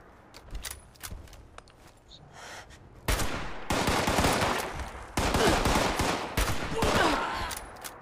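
Rapid bursts of gunfire in Fallout 76, loud and sustained, with a few scattered shots at first and then dense automatic volleys for several seconds.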